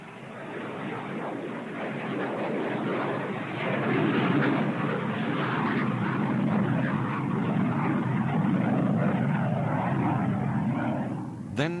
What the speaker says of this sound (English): To this day, the Antonov 22 remains the largest turboprop in the world.